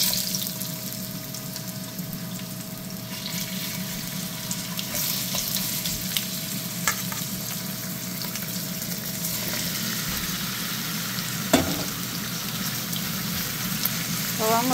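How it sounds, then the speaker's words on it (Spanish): Seasoned beef liver fries in a pan with a steady, dense sizzle that holds throughout, broken by a few faint clinks and stirring sounds; no talking. "ya lo vamos a empezar a freír"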